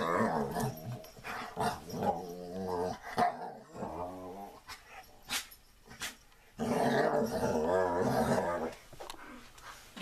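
A dog growls and snarls in playful bursts with a few barks mixed in, close and moderately loud, followed by a pause and then a longer stretch of rumbling growls.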